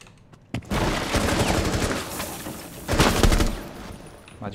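Gunfire in Rainbow Six Siege: a single sharp shot, then a long rapid burst of automatic fire, a short pause and a second loud burst, all close and punchy.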